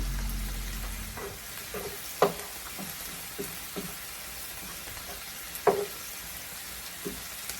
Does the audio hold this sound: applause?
no